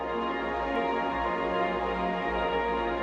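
Two synth pads for a stutter house track layered into one dense, sustained chord with a pulsing low end underneath, steady and moderately loud throughout, with no voices.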